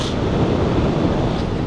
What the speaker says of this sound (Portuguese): O vento começou a aparecer.